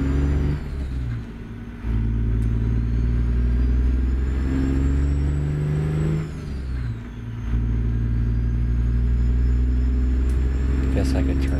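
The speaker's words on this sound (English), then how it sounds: "I also forgot to turn off the Jake brake." Heavy truck diesel engine with the engine (Jake) brake on in American Truck Simulator, a Ruda Freightshaker hauling a Great Dane trailer: a loud, steady low rumble that dips briefly twice, with a voice talking over it.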